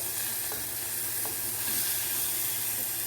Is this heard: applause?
no